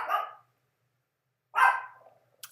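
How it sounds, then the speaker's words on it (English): A dog barks twice indoors, two short separate woofs over a second apart, moderately close against a quiet room, followed by a faint brief yip. "And there's my dog in the voiceover."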